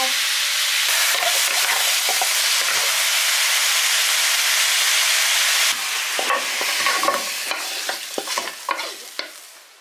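Lamb spine stir-fried in a hot pan with light and dark soy sauce gives a loud, steady sizzle, then sharper scraping stirs break in over the hiss, close up and without talk.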